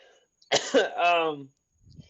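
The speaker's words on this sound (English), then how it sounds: "It's coughing." A short, harsh cough or throat-clearing burst followed by a brief voiced grunt, close and loud, with a faint breath at the end.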